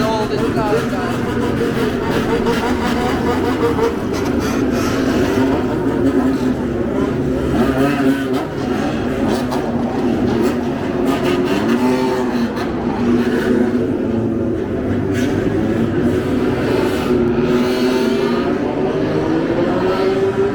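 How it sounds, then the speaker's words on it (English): Cars driving past and revving at a busy car meet in Kobe, Japan, with supercars among them; a steady dense engine roar with rising revs runs throughout, close and loud, while people talk in the crowd. "All the cars coming right now."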